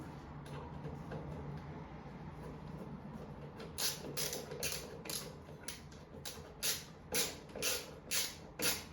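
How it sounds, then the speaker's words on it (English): A screw driven by hand into a wall plug to fix a bathroom shelf bracket, heard close as repeated creaking, ratcheting turns that grow louder and more rhythmic as the plug tightens, with no talk. "It's becoming much more tight to get the screw in."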